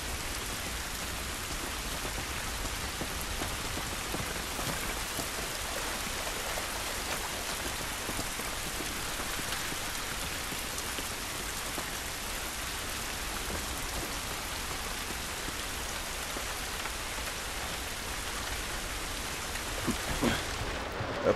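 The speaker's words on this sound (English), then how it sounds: "This rain ain't gonna do us any good." Steady rain falls outdoors in The Last of Us Remastered, a dense, even hiss of downpour lasting throughout with no voices over it.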